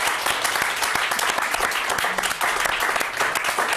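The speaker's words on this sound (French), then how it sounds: "Yvette Terola, on peut l'applaudir, hein" A café audience applauding a performer, steady close clapping filling the clip from start to finish with no talk over it.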